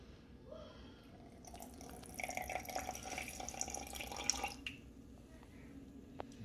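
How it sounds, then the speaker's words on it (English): Filtered water from the fridge trickles and pours into a sourdough starter at the kitchen scale, a steady close liquid stream that swells in the middle and tapers off. "This is filtered water out of the fridge."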